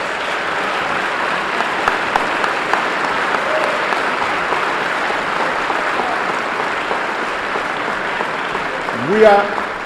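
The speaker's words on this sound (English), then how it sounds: "Please, let's give our panelists a round of applause." At a 2008 Harlem debate, the audience claps for the panelists in a steady, moderately loud wash of applause that holds throughout, with a brief voice cutting in near the end.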